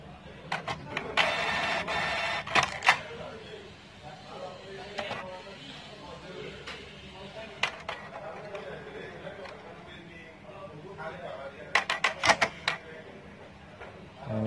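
A Brother, Canon or Epson inkjet printer that has just been switched back on after a sensor repair whirs and clicks as it runs, with intermittent ticks and mechanical bursts, fairly faint and close, with someone speaking over it.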